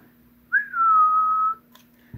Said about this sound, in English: I'm going to give a whistle into that so you'll see it jump up.